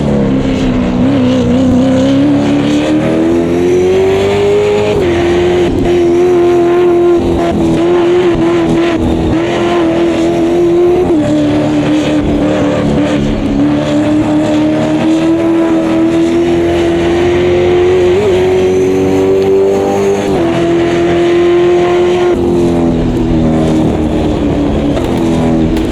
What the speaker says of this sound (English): The exhaust sound is Super V8.